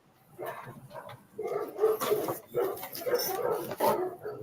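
A young, year-old rescue dog, still a puppy, gives a run of close yips, barks and whimpers in short bursts, loud and nearby.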